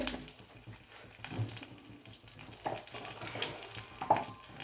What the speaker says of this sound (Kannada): ಸಾಸ್ಮಿ ಜೀರಿಗೆ ಚಟ್ಪಟ್ ಅನ್ಬೇಕ್ರಿ